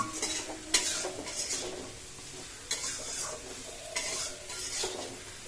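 Tilapia curry masala being fried and stirred in a pan, rhythmic spatula scrapes and clinks against the metal over a soft steady sizzle, close and fairly quiet.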